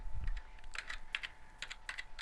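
Keys on a computer keyboard are typed close up in a short burst of several quick, light clicks, spaced a little unevenly, over a faint steady hum.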